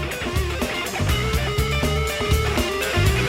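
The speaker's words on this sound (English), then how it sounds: "when we get past the rock fusion guitar solo" A rock fusion guitar solo plays over a full band with steady drums and bass, the lead lines sustained and prominent through a continuous, dense mix without any talking.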